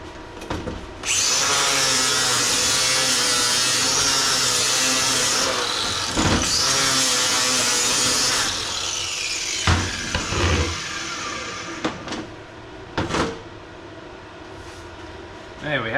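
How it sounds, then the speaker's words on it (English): Welding on a cracked turbo exhaust manifold of a car: a long, loud, steady crackling buzz lasting several seconds, then shorter bursts and pauses, heard up close with some talk. "that's a really, really strong weld, so that is not going to let go"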